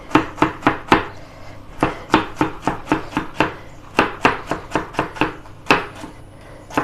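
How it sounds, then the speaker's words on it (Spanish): A knife chops a carrot into small pieces on a board in crisp, close, rhythmic strikes, about three per second with short pauses between runs. "Y la vamos a cortar también en trocitos pequeños."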